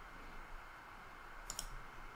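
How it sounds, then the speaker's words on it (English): A single quick computer mouse click, faint and close, with a tiny follow-up click against a steady low room hum; no one speaks. "I actually click on this maximize right here"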